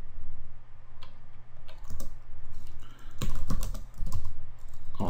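Typing on a computer keyboard while configuring a network switch, a close series of irregular key clicks in short bursts over a low steady hum.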